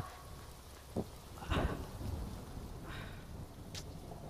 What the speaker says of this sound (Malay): Kan dah hujan dah.